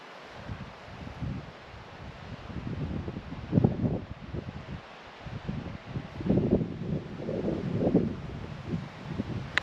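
Wind gusting outdoors at a tent on a Swedish summer day, a steady broadband rush that swells and buffets the microphone in waves, loudest around the middle and later gusts.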